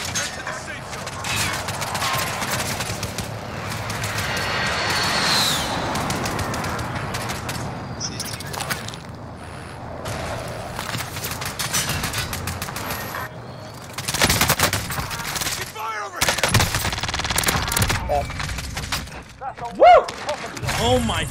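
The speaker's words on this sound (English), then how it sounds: "Enemy precision airstrike." Explosions and rapid gunfire from a precision airstrike in Call of Duty Warzone, a dense, continuous barrage of blasts and shots with heavier bursts near the end, and voices talking over it.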